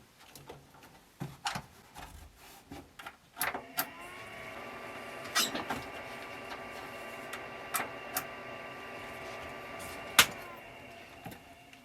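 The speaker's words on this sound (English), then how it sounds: "It makes a little bit of a click sound, like the heads are resetting or whatever when it first starts up." An old hard drive in an ATX Celeron desktop computer spins up with a steady rising whine and a few sharp, irregular clicks from the heads. It is moderately quiet and close, with no talking.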